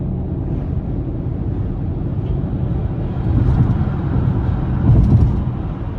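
Road noise inside a Lincoln Corsair plug-in hybrid cruising on the interstate: a loud, steady low rumble of tires on pavement that swells slightly at moments, with no voices.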